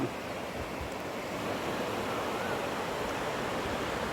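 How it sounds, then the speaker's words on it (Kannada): Water of the Kaveri river flowing beneath a railway bridge makes a steady broadband rush, even and unbroken, heard from a distance above. "ರೈಲ್ವೆ ಅಂಡರ್ ಬ್ರಿಡ್ಜ್ ಕೆಳಗೆ ಹರಿತಾ ಇರುವಂಥ ಕಾವೇರಿ ನದಿ ನೀರಿನ ಪ್ರವಾಹ"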